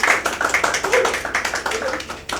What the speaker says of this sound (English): give a bit of a round of applause